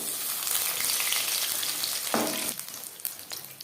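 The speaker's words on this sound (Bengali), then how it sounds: "একটা সাইড ভাজা হয়ে গেলে অপর সাইডটা উল্টে দেবো" Pumpkin flower fritters fry in hot oil, cooked a few at a time: a steady, close crackling sizzle with a brief louder burst of spitting partway through, then a slightly calmer bubbling. No voices.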